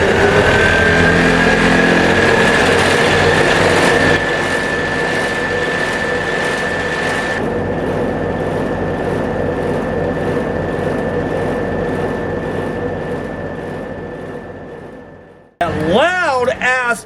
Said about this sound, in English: whenever I turn my ignition on, those fans come on